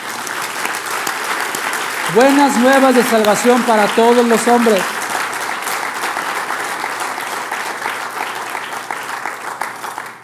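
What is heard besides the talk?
church congregation applause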